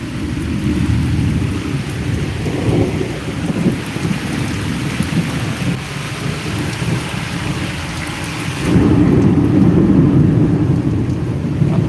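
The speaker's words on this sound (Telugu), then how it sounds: "ఈ వర్షం ఉరుములు మెరుపులు పిడపడ రావాలతో" Heavy thunderstorm downpour drums steadily and loudly, with low rolling thunder rumbling beneath the rain and a deeper surge of rain and thunder near the end; no voices.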